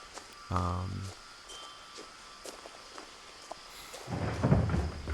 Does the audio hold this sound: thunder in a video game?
yes